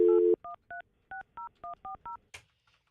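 A cell phone sends a run of DTMF dialing tones: a longer opening beep, then eight short, evenly spaced keypad tones, followed by a brief click. Each tone is clear and close, and no one speaks.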